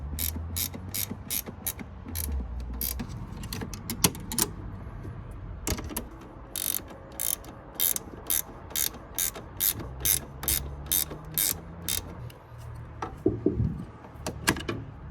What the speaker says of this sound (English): You're gonna get 2 box end wrenches and just tighten them up like that.